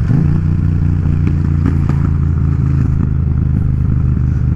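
A Yamaha MT-07 motorcycle fitted with an Akrapovic exhaust, its loud close engine holding a low steady throb with clattering mechanical texture throughout.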